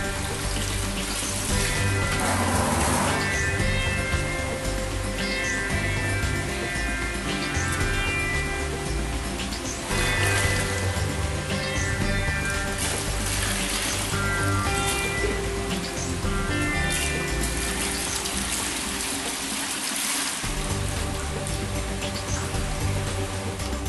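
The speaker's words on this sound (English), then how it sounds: "The contents of the bag are then rinsed into the bucket." Seawater rinses Artemia nauplii out of a turned-out bag into a part-filled bucket during live-food preparation for jungle perch larvae, giving a loud, steady run of splashing and pouring water that continues without pause.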